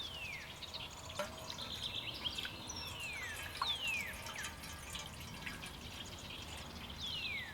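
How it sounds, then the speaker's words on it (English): Water pours steadily into a pot at an outdoor spring hammock camp, a continuous trickling wash with several bird chirps ringing out above it. "Fill this about half full of water."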